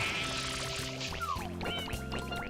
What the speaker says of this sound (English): Spray it with water and try to offset the balance.